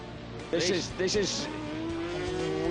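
Yamaha and Kawasaki racing motorcycles climb a hill at Snetterton, engines revving loudly and rising in pitch close by, with commentary running over them.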